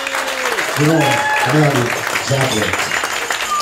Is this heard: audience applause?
yes